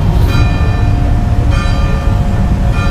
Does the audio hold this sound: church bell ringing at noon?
yes